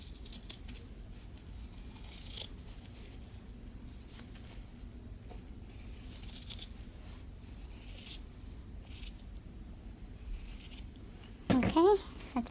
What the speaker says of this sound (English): now we trim it